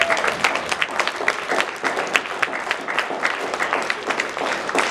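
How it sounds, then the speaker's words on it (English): A round of applause for student government candidates at a campus forum, a moderate crowd clapping steadily with uneven individual claps. "And one more round of applause for fantastic candidates."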